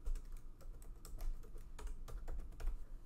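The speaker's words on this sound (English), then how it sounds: "I'm going to type in vacay mode" Typing on a computer keyboard, a steady run of quick light clicks at close range with no voices, while entering text for a puff heat-transfer-vinyl shirt design.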